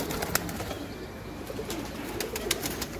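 Freshly bathed pigeons coo softly and continuously nearby, with a few sharper clicks and flutters breaking through the steady murmur.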